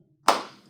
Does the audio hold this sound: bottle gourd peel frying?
no